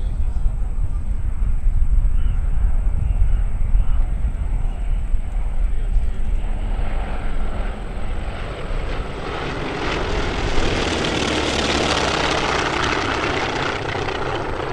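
Loud T-28 propeller aircraft with 1930s-design engines roaring overhead at an airshow, a deep rumbling drone that swells and grows brighter as the planes pass in formation, with talking beneath it.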